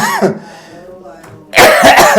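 A man coughs during a church sermon, one muffled cough early, then after a quiet pause a loud, harsh burst of coughing close to the microphone.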